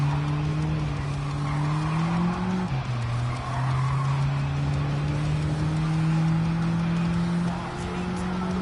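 A race car in Gran Turismo 7 brakes hard and slides, its engine droning steadily with a tonal whine that dips and shifts in pitch, tires scrubbing under a constant loud roar.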